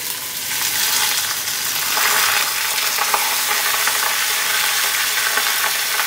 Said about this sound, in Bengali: গোটা জিরে ফোড়ন দিচ্ছি, আর একটা বড় তেজপাতাকে হাফ করে দিলাম।